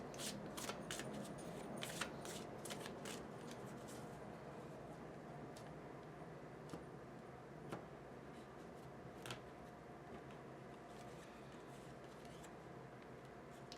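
Tarot cards being shuffled by hand at low level: a run of quick, crisp riffling clicks early on, then a steady soft hiss with a few isolated snaps, and no voices.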